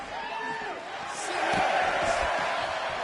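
Wrestling arena crowd at a 1987 match roaring and cheering in a sustained, distant wash of voices that swells toward the middle, with no clear individual words.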